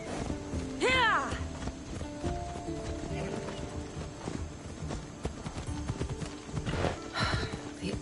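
Horse hooves clip-clop at a gallop in a video game set on a Greek island, steady rhythmic hoofbeats with a whinny near the start and voices talking over them.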